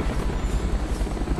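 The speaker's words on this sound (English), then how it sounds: "Shoot down the enemy helicopters." Enemy helicopter in Call of Duty: Black Ops, a close, heavy rotor thump pulsing rhythmically over a low droning engine rumble.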